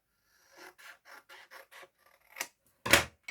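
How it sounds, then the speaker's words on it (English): A run of quick, crisp snips from long scissors, about six in a row, followed by a couple of louder rustling cuts, close and quiet with no talking. "get a much neater cut with the long scissors"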